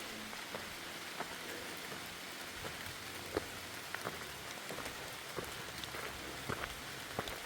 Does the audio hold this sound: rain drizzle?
yes